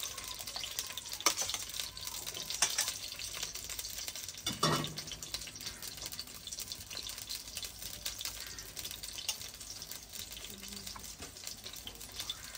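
Onions frying in hot ghee give a faint, steady sizzle, with occasional stirring scrapes and a louder clatter partway through, in a rural village kitchen.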